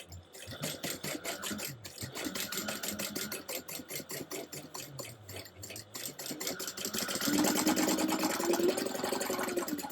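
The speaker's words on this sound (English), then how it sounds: "I am going to just base stitch around the edge really quickly" Sewing machine base stitching around the edge of fabric, a rapid rhythmic mechanical chatter running continuously and close, growing slightly louder and denser toward the end.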